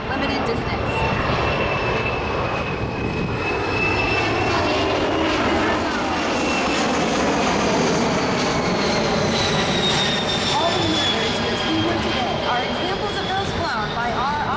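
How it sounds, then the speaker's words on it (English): A USAF C-17 transport jet climbs steeply nose-up on departure during an air show demonstration in Singapore, its loud, continuous engine roar and shifting whine filling the whole span, with crowd talk faintly mixed beneath. "With a departure climb angle of over 30 degrees nose up, the aircraft can reach an impressive altitude within limited distance."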